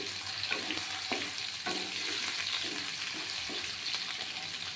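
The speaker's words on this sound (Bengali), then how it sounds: "আলুটা যতক্ষণ ভাজা না হবে ততক্ষণ আমি মশলা দেব না বা বাঁধাকপিও ছাড়বো না" Potatoes with chopped green chillies fry quietly in a pan, a soft steady sizzle broken by a few light scraping stirs.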